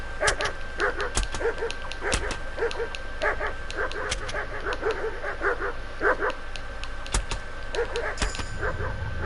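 A crowd of dogs in the video game Kingdom Come: Deliverance II bark, yip and whimper continuously, the overlapping calls close and busy with occasional sharp thuds between them.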